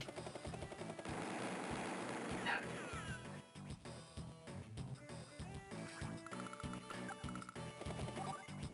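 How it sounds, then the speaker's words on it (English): A dog barks in the background, repeated sharp barks mixed among loud, busy game sounds and crashes throughout. "Wonder if you can hear the dog in the background going doolally."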